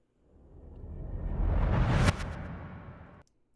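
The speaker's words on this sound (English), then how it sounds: "this is basically a sound sample of something that's been hit that has a long tail, and they flip the audio" A reversed orchestral hit sample from the Damage library swells steadily out of silence into a loud, sharp peak, then its tail cuts off abruptly, heard alone.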